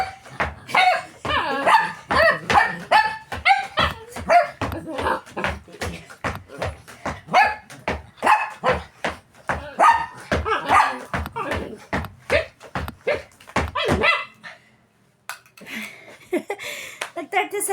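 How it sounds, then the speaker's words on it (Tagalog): Several dogs bark rapidly and insistently at close range, one sharp bark after another for about fourteen seconds, then stop, followed by a brief pause and quieter sounds. "Kasi mga aso ko, ano sila eh, kala nila may nag-aaway."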